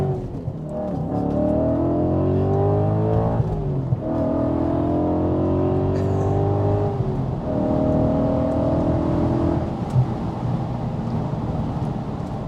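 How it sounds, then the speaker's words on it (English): An Audi RS4 B7 with a 4.2 V8, custom exhaust and stage 1 remap revs loudly and close. Three long rising revs climb in pitch and drop back, each followed by a steady high idle. "this modified car with a stage 1 remap, custom exhaust system, sounds absolutely perfect"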